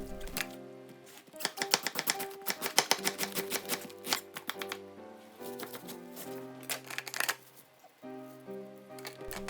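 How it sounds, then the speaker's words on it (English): A knife chops cabbage on a board for okonomiyaki, a Japanese street pancake. Quick bursts of crisp cuts come in runs with short pauses between them, close and fairly loud, over a low steady background tone. "Cut the cabbage."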